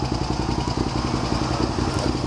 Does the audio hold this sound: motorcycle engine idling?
yes